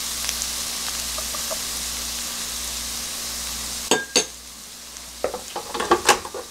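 Garlic scapes are stirred with soy sauce and syrup in a pan: a steady sizzle runs throughout, then a spatula scrapes and clinks against the pan in a few sharp bursts toward the end.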